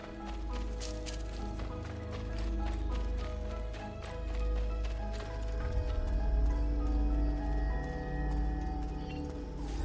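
Rapid rhythmic hoofbeats of a galloping horse in Assassin's Creed Brotherhood run continuously over a soft musical backdrop, moderately faint and steady.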